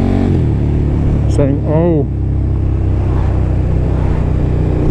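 A KTM 1290 Superduke R motorcycle engine rumbles loudly close by, with quick rising and falling revs blipping in a wavering burst, while someone talks over the steady engine drone.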